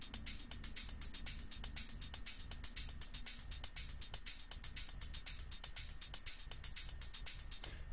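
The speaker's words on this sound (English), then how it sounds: "here are my hi-hats and my other cymbals, and they sound like this." Sampled hi-hats and cymbals from a Vengeance pack tick in a steady, fast rhythmic pattern, bright and crisp, with a low hum beneath throughout.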